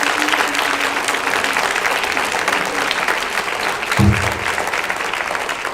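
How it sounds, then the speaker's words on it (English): A steady round of audience applause at a high school sports banquet, dense clapping from a large crowd sustained for several seconds without a break. "let's give Mr. Childress a big round of applause"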